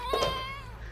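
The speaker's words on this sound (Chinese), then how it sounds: "小猫一样叫" A cat gives a single short, tonal meow, close and fairly quiet, lasting under a second.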